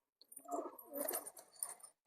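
Pet pigeons coo close by in soft, low, throaty rolling phrases, a couple of bursts running together against otherwise quiet surroundings.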